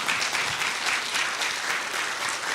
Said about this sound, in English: Another round of applause for our elected officials